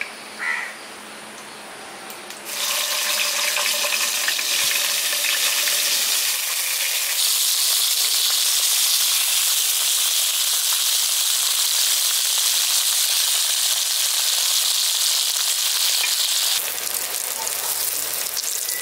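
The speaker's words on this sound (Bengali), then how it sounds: "বেগুনগুলো আমি এখানে উল্টে পাল্টে লালচে করে ভেজে নিচ্ছি।" Brinjal pieces fry in hot mustard oil, a loud, close, continuous sizzle and hiss that swells sharply once the frying gets going and holds steady for a long stretch.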